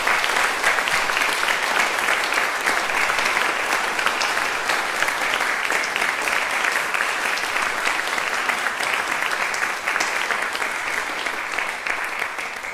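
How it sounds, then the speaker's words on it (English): A large concert audience at a national music festival applauds the adjudicators, a thick, even wash of clapping that stays loud and steady throughout without letting up. "Let's give them a round of applause."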